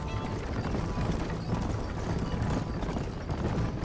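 A horse in Red Dead Redemption is ridden at a steady pace, its hooves clip-clopping in an even, continuous rhythm with a faint whinny-like edge, at moderate volume and without talk.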